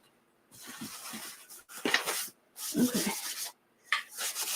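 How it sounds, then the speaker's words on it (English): Sandpaper rubbing over a wooden drop-in box frame in close, repeated bursts of scratchy strokes separated by brief pauses, with a short spoken word in between. "Trying to get some of that sandpaper off."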